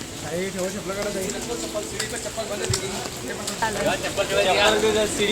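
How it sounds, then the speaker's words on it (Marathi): Heavy monsoon rain with wind falls in a steady, dense hiss throughout at the hilltop Jivdani temple while a person talks over it. "खूप पाऊस पडतो आहे"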